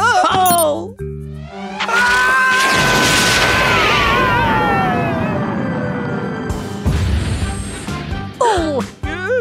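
Mr. Weasel's ice cream rocket blows up in a cartoon, a loud sustained roaring blast with a long falling whistle, amid excited voices and cartoon sound effects.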